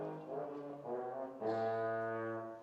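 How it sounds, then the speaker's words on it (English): A middle school student in a sixth-grade band plays a euphonium solo at a winter concert in St. Louis Park. Three sustained, mellow brass notes sound close and clear, the last held longest and loudest before fading. "Evelyn, why don't you give the crowd of what the euphonium sounds like?"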